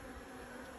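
Honey bees buzz steadily around an open beehive, a dense, continuous hum close by with no voices.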